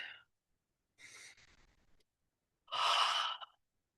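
Slow deep breaths in a calm guided relaxation setting: a short exhale, then a softer inhale, and a louder, airy sigh-like exhale near the end, close and alone with no talking.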